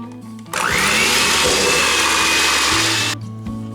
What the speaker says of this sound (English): Let's beat 2 sticks of softened butter for about 3 minutes.